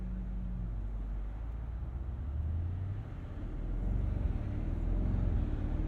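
Mercedes-AMG SL 63 engine with 577 horsepower, low steady rumble swelling as the throttle opens, growing louder and rougher over the last couple of seconds, heard from inside the car with no talk.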